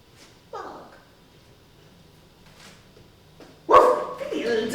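A person's voice imitates a dog's bark, giving a short yelp and then a louder, rougher bark. It comes amid soft talk in a rehearsal setting.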